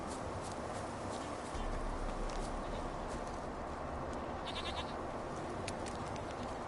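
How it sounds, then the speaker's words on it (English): A goat bleats in The Witcher video game, a few short cries heard over a steady background of game ambience. "Oh, I hear the goat."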